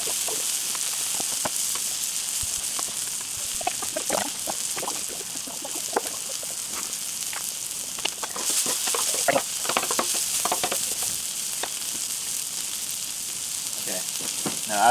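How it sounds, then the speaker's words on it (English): Salted onions sizzling on a griddle, a continuous bright frying hiss with scattered crackles and pops throughout, fairly close and steady, with no one talking. "Salt our onions. Let them griddle down a bit."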